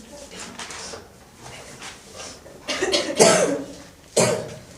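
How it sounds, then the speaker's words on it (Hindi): A few harsh coughs burst out near the end, loud and close, after a stretch of quieter shuffling and breathy sounds. "कुछ ज़्यादा ही खांसी आज आ रही है।"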